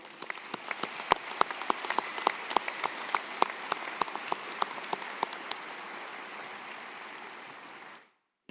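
Applause from a high school graduation ceremony crowd, a steady patter of many hands with a few sharp, distinct claps near the front, fading out before cutting off.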